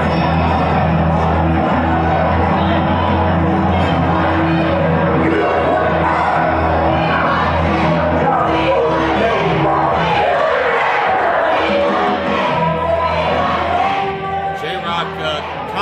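A wrestling crowd at an independent PCW Holiday Havoc show cheers and yells steadily through a ring entrance, a dense, loud roar of many voices that barely lets up.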